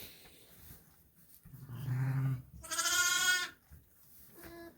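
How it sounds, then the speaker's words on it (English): A Suffolk ewe and her newborn twin lambs bleat nearby, a low deep call followed by a loud, higher wavering bleat and a short fainter one, with no talk. "Pair of twin lambs."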